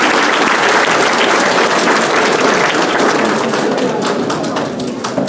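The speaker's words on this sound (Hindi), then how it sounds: "सब जोरदार ताली से हम उनका स्वागत करते हैं" Loud, dense applause from a school audience welcoming a student, continuous clapping that carries on throughout and thins slightly near the end.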